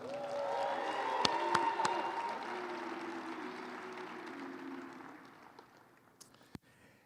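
An audience at the SAMYS 2023 awards show applauds and cheers for Luke, a dense, sustained wash of clapping that stays loud for about five seconds, then thins and fades to scattered claps.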